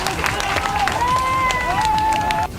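Newspaper staff in a Hong Kong newsroom gather and clap together, a crowd-like wash of applause and cheering with voices talking over it throughout, steady and fairly loud, ending abruptly.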